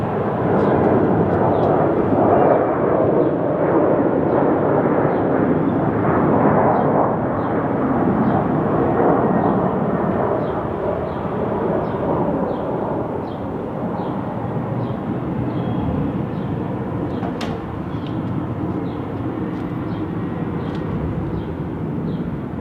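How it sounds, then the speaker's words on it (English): Southwest Boeing 737-700 airliner departing from runway 16 left at Salt Lake City International, a loud steady roar of jet engines holding for over twenty seconds with no talk. "Next up, Southwest 458, departing from runway 16 left, 737-700, headed to Phoenix."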